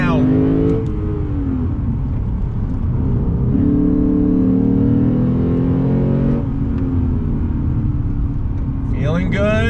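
A 2021 Lexus RC F with a V8 accelerating hard, its engine note climbing steadily through the revs, loud and continuous from inside the cabin, with someone talking over it.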